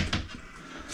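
A cabinet drawer slides and thumps as it opens or closes, a short muffled knock and rub up close in a quiet room.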